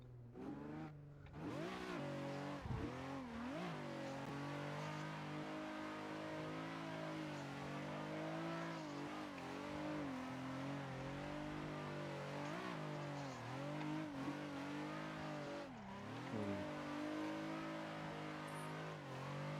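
A Nissan 350z engine in a drifting video game revs hard and continuously, its pitch swinging up and down as the car slides, loud and sustained with a faint tire squeal and no speech.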